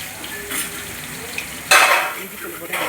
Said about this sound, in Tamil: மட்டன் கிரேவி வைக்கிறதுக்காக வானலில் வச்சாச்சு அடுப்பில். அதுக்கப்புறம் பட்டை கிராம்பு போட்டாச்சு